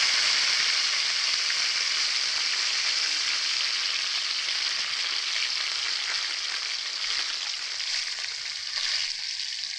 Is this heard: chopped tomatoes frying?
yes